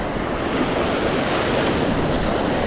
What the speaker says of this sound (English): the waves are a little nicer over here. They're not as rough as they were at the bottom.